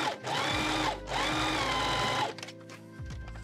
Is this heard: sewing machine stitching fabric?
yes